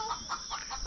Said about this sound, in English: we just threw some food out for the chickens